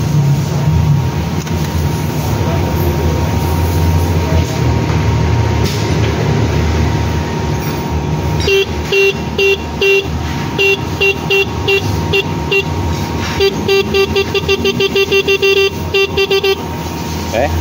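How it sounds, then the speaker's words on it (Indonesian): Motorcycle double horn wired through a 4-pin relay, honking in repeated loud blasts and short toots over a steady hum, with someone talking in the first half. "jadi ini coba kita dengarkan klakson yang ini"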